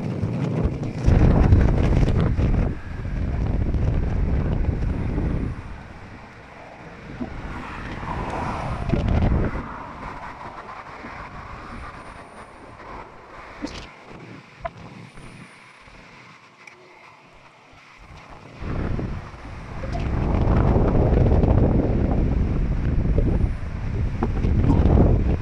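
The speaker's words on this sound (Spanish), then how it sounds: "Subiendo bastante el viento." Strong southwest wind gusting across a Cantabrian beach at Oriñón, roaring and buffeting the microphone in heavy waves that ease in the middle and return loud toward the end; no talking.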